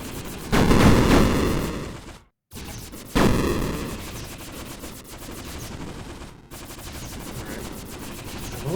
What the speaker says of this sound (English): That machine gun was a pretty good investment.